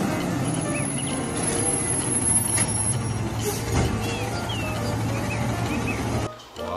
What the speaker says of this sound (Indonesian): di sini ada mobil truk kebersihan